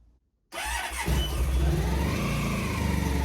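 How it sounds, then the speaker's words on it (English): A Honda ST1100 motorcycle engine cranks and fires up in a garage after a short silence, then settles into a loud, steady idle with a rhythmic low throb. "So I put on the choke, put the kill switch to run, push the starter"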